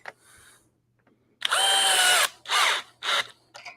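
A DeWalt cordless drill set to speed 2 whirs in several bursts: one long loud run followed by shorter spins, each starting and stopping abruptly, close up after a quiet lead-in with faint clicks.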